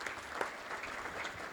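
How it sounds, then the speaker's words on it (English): Audience applause for children at a Junior Achievement governor's breakfast, heard as a soft, steady patter of clapping throughout with no talking. "How about a round of applause for these kids?"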